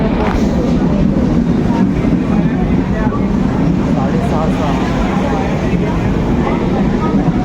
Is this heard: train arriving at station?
yes